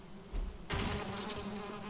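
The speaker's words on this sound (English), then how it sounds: "Got to be careful with beehives because bees will poison." Bees swarm from a beehive in the video game Valheim, a dense buzzing drone that swells abruptly and holds loud and close.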